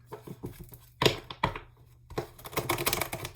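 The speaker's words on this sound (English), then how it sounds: "I think that's a good shuffle." Tarot cards being shuffled by hand, a series of close, papery riffles and slaps, with a sharper burst near the middle and denser rustling toward the end, no talk.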